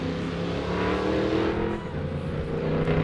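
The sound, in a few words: off-road race car taking off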